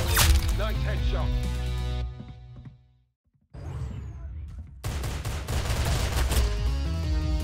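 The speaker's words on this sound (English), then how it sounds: "Very good shooting!" Gunfire in a shooting video game, with dense bursts of rapid shots up front, a short near-silent gap, then renewed heavy firing mixed with game sound, while a voice talks over it.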